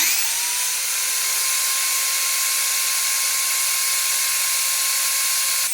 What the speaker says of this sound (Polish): podłączymy naszą wiertarkę z powrotem